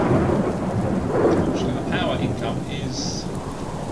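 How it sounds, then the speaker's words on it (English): Steady rain with rumbling thunder in the survival video game Subsistence, a continuous loud wash throughout while someone talks over it. "It's raining"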